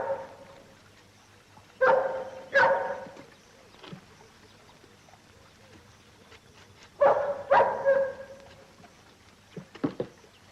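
A dog barks near a small creek, sounding in two clusters of a few loud, somewhat distant barks separated by quiet stretches, with a couple of fainter yelps at the end.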